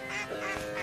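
Creaky, honking cartoon squeal of a sewer manhole cover, its wavering harmonic groan rising and falling several times over under a second, loud and close like a goose call.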